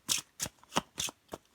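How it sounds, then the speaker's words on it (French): Tarot cards being shuffled by hand, five quick crisp riffling bursts at an even rhythm, close and fairly quiet with no voice. "je vais bien mélanger mon jeu"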